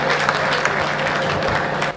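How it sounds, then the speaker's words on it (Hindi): A crowd at a Hindi poetry gathering claps loudly and densely, the applause sustained and close for about two seconds before it cuts off. "ताली एक बार ढंग ढंग की बजाओ यार"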